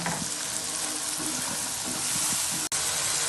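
Black chickpeas added to masala frying in a pan, producing a loud, steady sizzle and crackle with faint stirring, unbroken except for one brief dropout.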